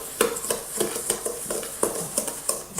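A spoon stirs sugar into melted butter in a bowl for chocolate cupcake batter, making a steady rhythm of close, light clinks and scrapes against the bowl.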